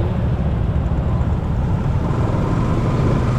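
Road traffic in hot weather fills the space with a dense, steady broadband roar of engines, loud and continuous, with no voices standing out.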